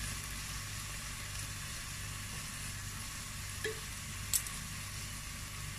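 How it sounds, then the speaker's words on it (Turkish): Onions sautéing in butter and a little oil in a pot give a steady, soft sizzle throughout, with a couple of faint clinks from a spoon near the end. "Soğanlarımı iyice soteleyeceğim."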